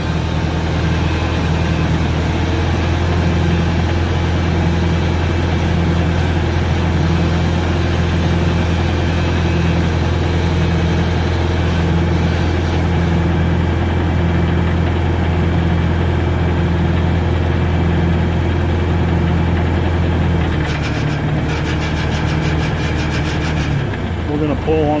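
A logging machine's diesel engine runs at a loud, steady idle with a heavy low throb and a faint regular pulsing, then shifts slightly near the end as the throttle comes up a little.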